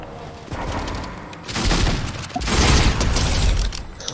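Fortnite gunfire, bursts of rapid shots and booming impacts with mechanical clatter, growing louder midway and continuing to the end.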